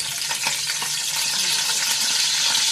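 Curry leaves hit hot oil for misal, producing a loud, dense, continuous sizzle and crackle close up, with faint stirring knocks underneath.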